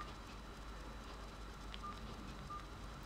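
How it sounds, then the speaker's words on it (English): A mobile phone sounds a short message notification, two brief electronic tones in a quiet room with faint background hiss. "there's my phone saying his daddy's on the way, I betcha"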